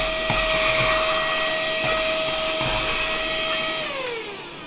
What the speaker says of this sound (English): It's a handy little vacuum that I found while I was chugging through